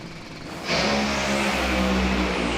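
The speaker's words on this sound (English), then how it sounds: "Both cars moving down the drag strip." NHRA drag racing cars launch down the drag strip: after a quieter rumble, a sudden loud roar kicks in and holds as the engines accelerate, close and powerful, with no talk.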